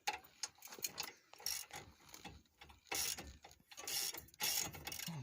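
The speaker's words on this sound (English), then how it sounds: "The 21 millimeter is going to be used to break the tie rod end bolt." A 21 mm socket wrench ratchets in bursts of quick clicks while breaking loose a tie rod end bolt during spindle replacement on a 1999 Dodge Ram 1500 RWD, with tool rattles and pauses between strokes.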